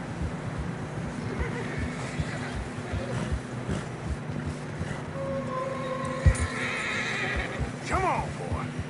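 A horse whinnies and hooves clop through fresh snow in Red Dead Redemption 2, with a steady plodding rhythm under wind, game dialogue and a loud neigh near the end.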